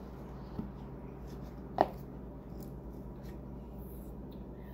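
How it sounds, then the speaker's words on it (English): A single crisp snip as string is cut for a cleat cover on a Vibe Shearwater 125 kayak. It is brief and fairly close, standing alone over quiet room hiss. "Just cut off a fair amount of string."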